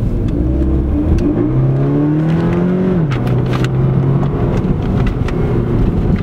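A 2016 Toyota FT86 sports car accelerates in normal drive mode, its engine droning steadily from inside the cabin and rising in pitch through a gear, then dropping and climbing again under a constant road roar.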